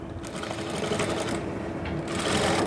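A sewing machine runs steadily, stitching a seam on a Nayra-style salwar suit, with a continuous, close, even whirr for the whole stretch and no talk over it.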